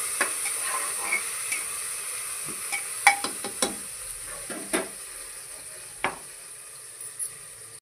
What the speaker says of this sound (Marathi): टोमॅटो थोडा वेळ स्टर करूया।